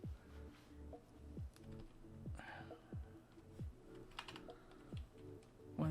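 Typing on a computer keyboard, with quick irregular clicks and clacks at close range over a quiet background hum, and no speech.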